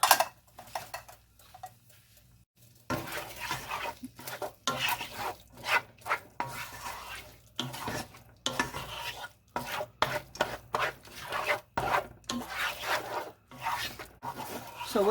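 Beans, tomatoes and green chilies stirred in a pot, with repeated rhythmic scraping and swishing strokes of a spoon after a quiet opening, some light clinks, no talk.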